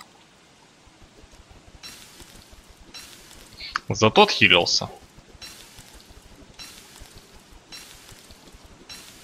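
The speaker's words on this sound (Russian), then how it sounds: "Блин, дождь по-прежнему проблема." Steady soft rain pattering in the video game Don't Starve: Reign of Giants, a faint hiss swelling in a few slow waves while someone speaks briefly in the middle.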